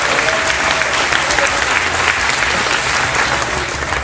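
Loud, dense applause from a cruise ship audience at an orientation on the JoCo Cruise, steady and continuous throughout with faint crowd murmur beneath.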